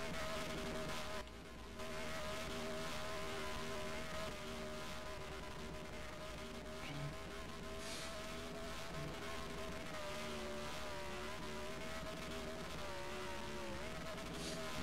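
Snickers America's Mix Camry race car doing a burnout at Eldora as its rear tires spin, giving a steady, loud, high engine drone that holds throughout with no voices.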